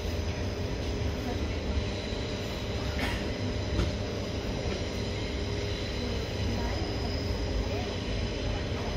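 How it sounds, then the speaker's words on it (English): Shoal Cliff train number 7 rumbles past continuously at close range, a dense, loud roar of wheels on rails holding steady throughout. "Shoal Cliff train, number 7."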